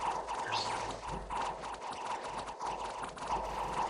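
Horses gallop in a Dominions video game battle, a busy patter of hoofbeats with occasional neighs under a dense, steady wash of battle noise, moderately faint throughout.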